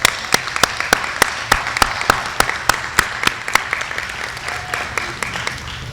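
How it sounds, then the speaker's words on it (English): An awards-dinner crowd applauds for Tina Mitchell, steady dense clapping throughout with sharp individual claps standing out near the microphone, fairly loud, no speech over it. "let's give Tina Mitchell a round of applause for all your help"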